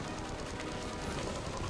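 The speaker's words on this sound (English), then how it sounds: "Immediately, all I hear is just gunfire." Dense, continuous bursts of rapid gunfire crackle throughout, a busy video-game firefight in Mass Effect 3 with no pauses.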